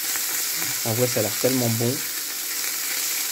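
Lardons sizzle steadily in a frying pan, a close, continuous hiss that runs under a brief stretch of talk.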